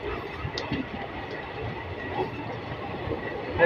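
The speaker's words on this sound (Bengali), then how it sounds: "তারপরের লাইন দিয়ে অয়েল কন্টেনার পাস করছে" A freight train of oil tank wagons hauled by two WAG-9 electric locomotives passes on a neighbouring track, its rolling rumble and rhythmic clickety-clack steady and fairly close, with no talking.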